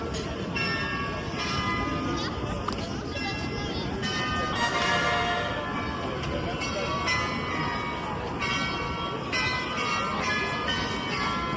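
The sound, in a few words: Munich Marienplatz clock tower bells ringing at the hour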